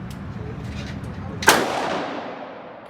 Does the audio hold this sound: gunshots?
yes